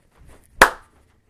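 A single sharp hand clap on a jumping step in a kids' dance, close and crisp after a few faint shuffling footsteps, with nothing after it.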